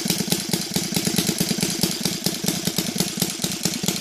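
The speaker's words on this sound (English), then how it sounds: "Okay, let's lower the idle again." A Laser 300 model aircraft engine converted to gasoline with CH ignition idles at low speed, a steady rapid pulsing chatter held close and loud with no one talking.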